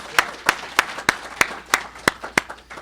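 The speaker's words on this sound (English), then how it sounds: "Please give them a big round of applause." Sparse, evenly spaced claps from a small group at a construction mentor-protégé program graduation, about eight sharp hand claps in a steady rhythm, fairly close and isolated rather than a full ovation.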